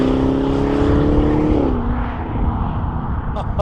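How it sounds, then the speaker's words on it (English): A Jaguar F-Pace SVR V8 with a QuickSilver exhaust system drones steadily and loudly, its pitch dropping slightly partway through as the revs ease, with no talk over it. "that's a QuickSilver exhaust system. That's the one to have on this car."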